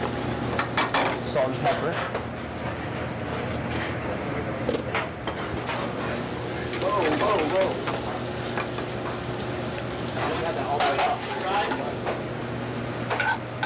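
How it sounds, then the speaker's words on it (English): Chanterelle mushrooms sauté in butter in a restaurant kitchen pan, a steady sizzle with occasional stirring and utensil clatter, while people talk over it. "We saute the chanterelles up in some butter,"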